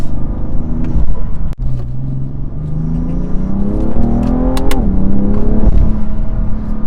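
A BMW F80 M3 Competition with DCT gearbox in Sport Plus mode revs hard and loud, its engine note climbing and falling in several sharp, rising sweeps, close and alone with no talk.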